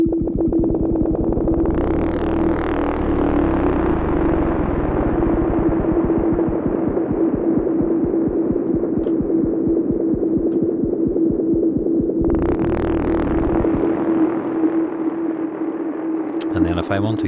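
An Ableton synth tone with LFO modulation, reverb and raised resonance throbs steadily in a rapid pulsing rhythm, its filter sweeping up bright twice, loud and continuous with no talk.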